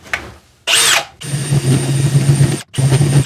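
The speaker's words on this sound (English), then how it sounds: "we're cutting into the least important part of the joist" A power drill bores into a wooden floor joist during a bathroom remodel, loud and close, in two long grinding bursts with short pauses, after a brief high whine.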